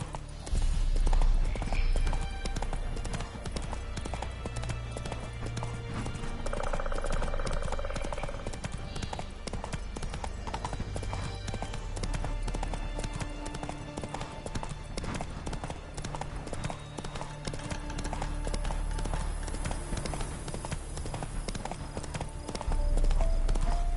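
Roach the horse galloping in The Witcher 3, with rapid rhythmic hoofbeats pounding close and loud throughout, over a low rumbling game soundtrack and occasional faint effects.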